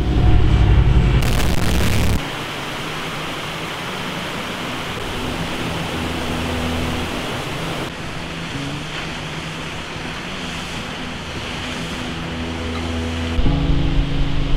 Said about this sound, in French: On est arrivé à une petite cascade.